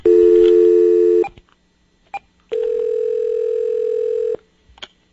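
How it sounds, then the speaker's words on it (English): Steady telephone dial tone sounds loudly, then cuts off for a brief dialing beep, then returns as a second long tone ending with another short beep before a phone call, no voices. "I'm just going to make a phone call."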